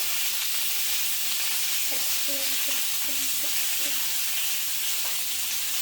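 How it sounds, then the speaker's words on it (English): Peppers and tarragon frying in a pan for a vegetable stir fry, giving a steady, close sizzle and hiss, with a few light stirring scrapes. "I'm gonna fry the peppers with the tarragon so they both get the same texture"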